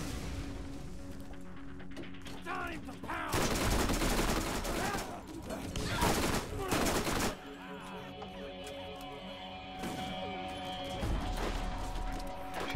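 SMG fire in the shooter Borderlands, several loud rapid bursts of automatic gunfire with crashes between quieter stretches of game sound, with players talking at times.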